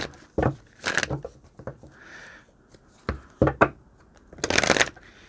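Tarot cards are shuffled in several quick, riffling bursts with soft taps and pauses between them, close by and without talk.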